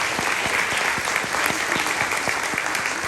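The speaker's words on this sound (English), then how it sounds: "how about one more round of applause for all of our seniors this year?" A high school spring concert audience applauds the graduating seniors with dense, steady clapping from a large crowd, sustained and fairly loud throughout.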